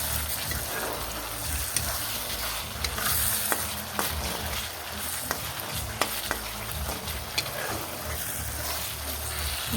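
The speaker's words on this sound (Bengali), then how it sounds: "মশলা তেলে দিয়ে দিলাম" Spices sizzling in hot oil for a curry, a continuous frying hiss with occasional scraping and stirring clicks, close and steady, no talk.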